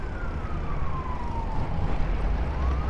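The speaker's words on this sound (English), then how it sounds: "Ambulance, I think." An ambulance siren passing along a city street, its single slow wail sweeping down and then back up, fairly faint under loud, steady traffic rumble.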